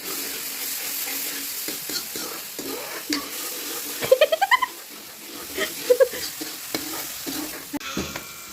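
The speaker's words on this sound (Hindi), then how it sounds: "जब ये तेल निकला है ना बाहर तब भूनता है।" Vegetables sizzle and fry steadily in hot oil in a pan, with a spoon scraping and stirring in a quick run of clacks midway and a few more later.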